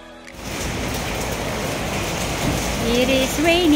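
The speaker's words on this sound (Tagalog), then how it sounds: "It is raining." Rain falls steadily at night while waiting for a car, a continuous hiss of drops that grows slightly louder toward the end, with a brief high tonal squeal near the close.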